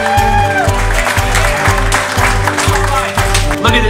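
A crowd of about 350 supporters at a mayoral fundraiser in Annapolis, Maryland claps loudly for Mayor Mike Pantelides, with music pulsing underneath and a voice over the top.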